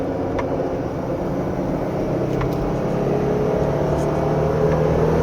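A 2022 Jeep Gladiator Rubicon engine revving briskly while driving up a gentle hill on a winding road, a steady close-up engine drone with road noise, its pitch rising gradually, alone and fairly loud.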